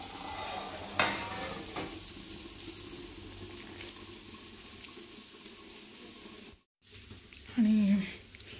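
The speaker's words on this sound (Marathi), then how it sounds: "मस्त मंद ज्योतीवर सुरमई फ्राय होते आपली आणि इकडे कोळंबीचा रस्सा उकळतो" Surmai kingfish fries in a pan over a low flame beside a simmering prawn curry, giving a steady soft sizzle with a brief clatter near the start and a short burst of voice near the end.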